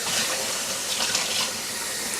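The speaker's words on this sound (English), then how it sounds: "So I'm just going to put some tap water inside of this glass here on the left" Tap water runs steadily into a drinking glass, making a continuous close rush and hiss with no talking.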